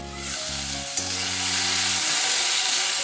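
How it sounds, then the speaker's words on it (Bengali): Potato, papaya and vegetables for a bitter gourd curry fry under a lid in a pan as they are stirred, giving a steady, close hiss of sizzling oil with no talking. "ঢাকা দিয়ে দিয়ে একটু নেড়ে নিচ্ছি"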